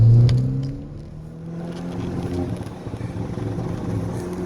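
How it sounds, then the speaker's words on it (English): Hyundai Veloster Turbo revving hard through the gears while misfiring and backfiring, a loud close engine drone with rising harmonic tones and choppy power cuts. "I usually don't stay on it that long after it's starting to backfire like that."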